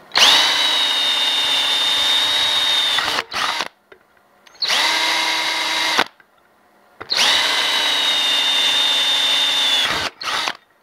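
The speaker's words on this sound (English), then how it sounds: "I'm going to put a guide hole through it so I don't have so much material to remove" A power drill bores a guide hole through a keychain tripod part, running in three long loud whining bursts of about three seconds each, separated by brief pauses, close and without speech.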